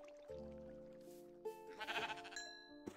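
Sheep bleating in Minecraft, two or three overlapping bleats in quick succession, close and clear, with a brief rustle of game noise between them.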